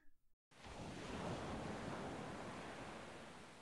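Wind-driven waves in the video game Anasazi: after a brief quiet moment, a steady, loud broadband wash of surf and wind swells in and holds, easing slightly toward the end, with no voices.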